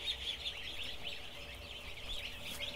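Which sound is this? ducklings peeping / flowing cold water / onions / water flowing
ducklings peeping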